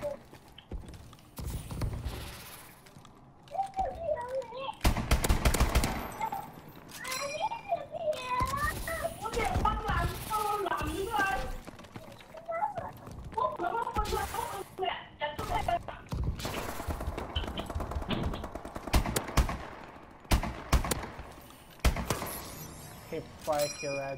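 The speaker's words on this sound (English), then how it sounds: "I shoot him like twice and I just hit fire for the rest" Bursts of gunfire in a first-person shooter free-for-all match, rapid volleys broken by short pauses, with a player talking over the shots throughout.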